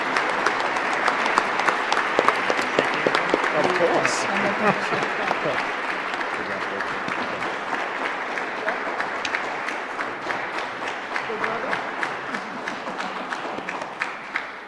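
An audience applauds three semifinalists at a Waterbury Board of Education superintendent search candidate forum. Steady, dense clapping fills the room for about fifteen seconds, with a brief spoken remark over it.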